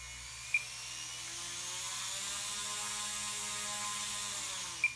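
Electric motor and propeller of an RC foam glider held in hand for a thrust test, a steady close whir with a rising tone and sharp clicks at the start and end.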